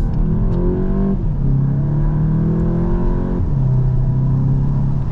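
A front-wheel-drive Volkswagen Golf GTI accelerates hard on wet roads, its engine rising in pitch through the gears with two shift drops, under a constant rumble of tyres and road noise inside the cabin.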